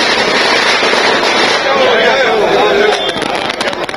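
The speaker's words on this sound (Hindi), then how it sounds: "आतिशबाजी और पटाखों के साथ रघुवर दास के स्वागत की वहां पर तैयारी हो रही है।" Firecrackers and fireworks burst outside a BJP state office during a welcome celebration, a dense continuous crackle of loud pops filling the scene, with crowd voices mixed in.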